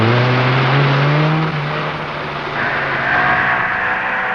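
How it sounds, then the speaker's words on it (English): A 1974 Audi 80 rally car accelerates hard during a Lebanon–Syria rally, its engine note climbing steadily and then holding a loud, close, sustained roar with no voices. "Tabe in an Audi 80."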